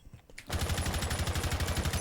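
Rapid automatic gunfire in a competitive tactical shooter match on the Clubhouse map bursts in after a quiet moment, a fast, even stream of shots that keeps going loud and continuous without talk.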